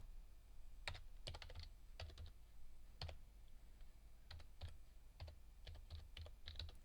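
Keystrokes tapping out an account name on an iPad's on-screen keyboard, short bursts of crisp clicks in quick irregular runs with brief pauses between, close and fairly quiet, no voices.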